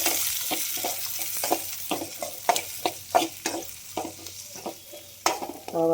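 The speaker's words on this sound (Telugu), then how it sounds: "ఆవాలు, జీలకర్ర గోల్డెన్ కలర్ వచ్చేంత వరకు బాగా వేయించుదామండి." Mustard seeds, cumin and onions fry in a pan for bendakaya masala pulusu while being stirred, with a constant loud crackling sizzle broken by repeated quick scraping strokes and clinks of the spoon.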